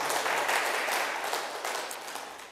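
A church congregation at a pastor's sermon breaks into a loud round of applause. The clapping swells at first, then gradually fades over a couple of seconds.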